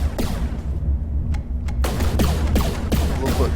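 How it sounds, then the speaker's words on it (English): Fast-firing dual cannons in a video game let off rapid bursts of heavy shots, a dense volley followed by a short pause and then several more spaced booming reports, loud and close. "Some very fast firing dual cannons there."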